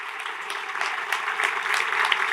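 An evening storytelling festival audience applauds the Morrison family, a brief, moderately loud spell of dense clapping that swells slightly toward the end.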